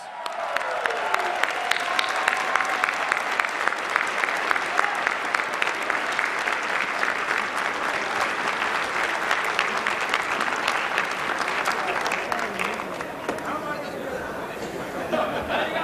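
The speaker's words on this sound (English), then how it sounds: "Give him a round of applause." A crowd at a 2016 Libertarian Party presidential debate applauds the winning bidder after an auction sale, with steady, dense clapping lasting throughout and chatter mixed in beneath it.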